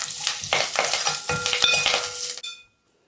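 Dried red chillies, asafoetida and curry leaves sizzle and crackle loudly in hot oil for a Telugu pappu charu tempering, with stirring clinks over the spluttering, which cuts off near the end.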